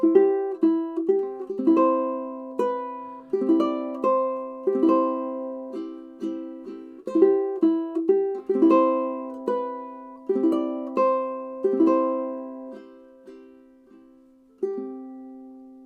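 Fingerstyle ukulele plays the closing line of a chord melody arrangement of a song, with clean plucked notes and strummed chords, each decaying before the next, slowing to a final sustained chord, no voices.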